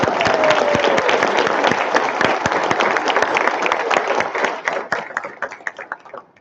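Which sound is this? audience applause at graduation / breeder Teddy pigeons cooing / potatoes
audience applause at graduation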